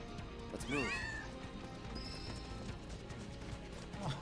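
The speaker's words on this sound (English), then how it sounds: "Look at all these little cats." Little cats in Final Fantasy 7 Rebirth let out a quick run of soft, rising meows near the start, with one more faint mew at the very end over quiet game ambience.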